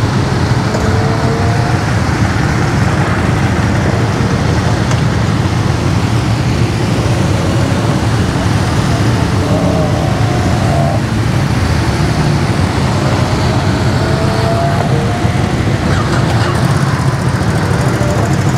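Motorcycles ride out onto the Nürburgring Nordschleife at a track training event, their engines a steady distant drone blended with loud constant wind and road roar, with no voices heard.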